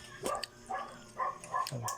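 A dog barks a few times at a distance, faint short yaps spaced out over a quiet background.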